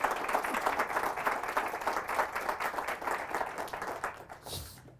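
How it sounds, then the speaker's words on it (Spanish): A church congregation applauding during a Spanish-language healing service, steady dense clapping that carries on for several seconds before fading out near the end. "Fuertes aplausos al Rey de Reyes y al Señor de Señores."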